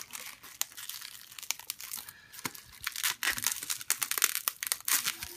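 Crinkly tearing and crumpling of a mail package being opened by hand, an irregular run of close rustles and rips that grows busier toward the end.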